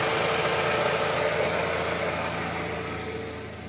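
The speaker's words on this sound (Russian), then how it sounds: "пошло шипение, это засасывается воздух в опускной коллектор" Steady hiss of air being drawn into the intake manifold through the PCV valve of an idling car engine, close and continuous with an engine hum underneath, fading slightly at the end.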